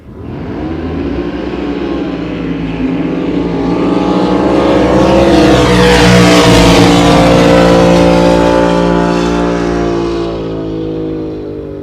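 A Kryptonite K1 jet drag boat powered by a big-block Chevy engine roars past at a racing event, its loud engine swelling to a peak and then easing off as it speeds away, with no talk over it.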